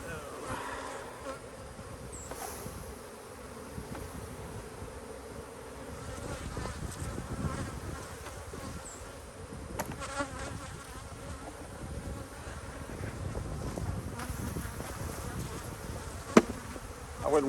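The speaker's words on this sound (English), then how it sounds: "You can see all those bees." Honeybees buzz steadily around hives in an apiary, a dense close swarm hum with occasional handling knocks and clicks, no talk.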